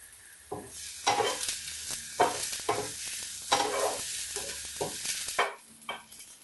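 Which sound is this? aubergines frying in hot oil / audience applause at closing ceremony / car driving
aubergines frying in hot oil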